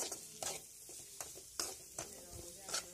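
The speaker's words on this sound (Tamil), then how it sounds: "இப்போ இதை நல்லா நம்ம வதக்க விட்டுக்கலாம்" Onions sautéing in hot oil for a Tamil-style prawn thokku, with a steady sizzle broken by several sharp scraping stirs of a spatula in the pan, close and moderately loud, no talking.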